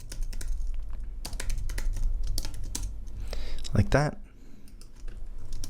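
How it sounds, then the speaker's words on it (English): Rapid typing on a computer keyboard, a steady patter of close key clicks while someone talks over part of it. "so I'm gonna just type it out"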